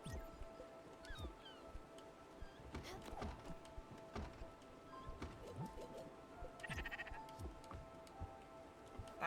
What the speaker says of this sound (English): Feed these sheep because they're now hungry.